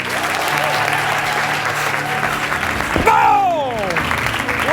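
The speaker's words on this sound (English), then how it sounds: "A round of applause for Dan." An audience at a business talk gives a speaker a round of applause, loud and continuous. Tonal music and sweeping sounds rise over it near the end.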